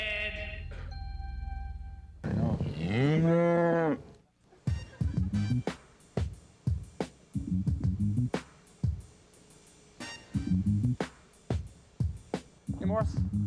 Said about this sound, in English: Gonna go find these cows now, are we?